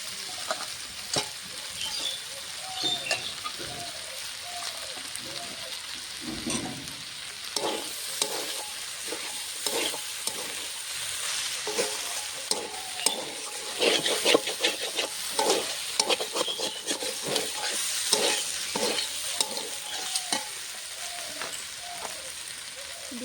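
Vegetables and small fried fish sizzle steadily in a pan while a spoon scrapes and stirs in repeated strokes, close and fairly loud, with no voices.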